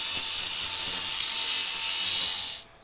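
A piece of material being cut in half, a steady harsh hiss of cutting for over two seconds that stops abruptly, close and loud with no talk.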